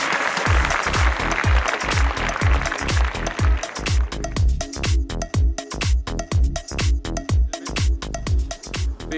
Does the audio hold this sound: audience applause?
yes